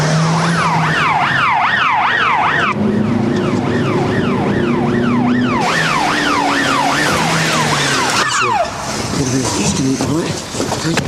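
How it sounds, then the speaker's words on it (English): An ambulance siren wails loudly in a fast, repeating rise-and-fall pattern throughout, with a shift in tone partway through and people talking over it in a tense street emergency. "Where's this ambulance?"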